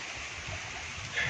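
Muddy, rain-swollen Sutlej river water flowing near villages by Sri Anandpur Sahib, a steady broadband rush that holds constant and swells slightly toward the end, with no voices.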